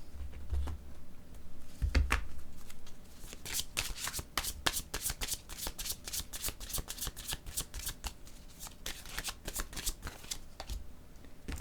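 A deck of playing cards being shuffled up close, a long run of rapid crisp riffling clicks and flutters with a few softer thumps, no speech.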